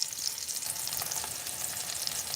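Onions for ginisang mongo hiss faintly in hot oil, giving a soft, even sizzle that holds steady throughout with no voices.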